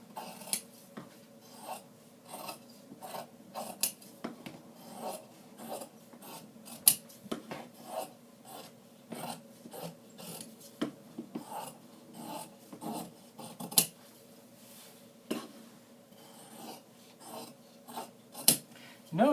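Scissors cut through fabric while a sewn swag is made, giving soft, close, repeated crisp snips and rasping rubs in an irregular rhythm against a quiet room.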